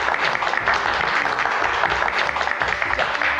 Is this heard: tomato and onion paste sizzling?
no